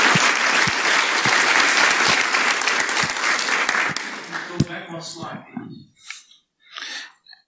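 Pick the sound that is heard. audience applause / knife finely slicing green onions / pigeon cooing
audience applause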